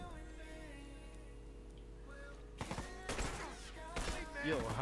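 Gunfire in a first-person shooter video game during a 2v2 tournament match, with bursts of shots breaking over steady game background and commentators talking.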